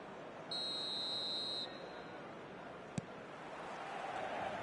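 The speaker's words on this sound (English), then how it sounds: "Here's the whistle then to start the second half." A referee's whistle in eFootball 2026 sounds one long, steady, shrill blast to kick off the second half, heard clearly over a constant stadium crowd roar.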